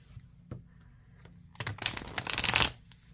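A deck of Darkside Skeleton tarot cards is handled with a couple of faint taps, then shuffled in a close, crisp burst of riffling card flutter lasting about a second.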